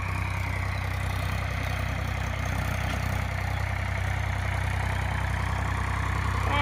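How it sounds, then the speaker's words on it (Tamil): A tractor engine runs steadily outdoors, a continuous low throbbing idle with a constant mechanical drone and no break. "டிராக்டர்"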